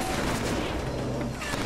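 Gunfire in the video game Killzone 3, a dense, continuous wash of shooting and battle noise, loud and unbroken throughout.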